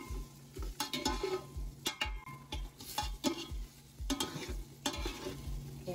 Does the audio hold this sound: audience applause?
no